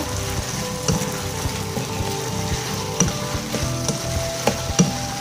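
Black pepper meat filling with spring onions is stirred in a hot pan, a steady loud sizzle broken by occasional sharp scrapes and clacks of the spatula against the pan, with no talking.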